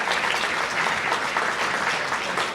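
Sustained audience applause fills a hall at a United Way of Greater Plymouth County annual meeting, a dense, steady clapping of many hands with no break and no voices over it.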